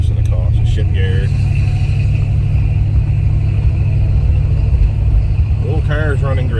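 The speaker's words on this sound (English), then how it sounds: "The old car is running great." A 1978 Plymouth Volare drives along, its engine and road noise forming a constant heavy low rumble from inside the car, with someone talking briefly over it at the start and end.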